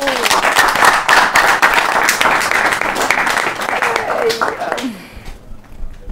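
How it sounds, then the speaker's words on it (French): A television studio audience bursts into loud, sustained applause, dense clapping with a voice speaking over it, fading out near the end. "on applaudit"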